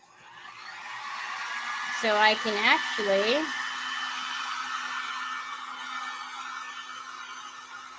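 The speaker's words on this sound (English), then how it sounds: "put this in there, and then I'll hit this with the dryer" A hair dryer blows steadily on a butterfly craft project, a constant close airy whir throughout, with a brief stretch of speech partway through.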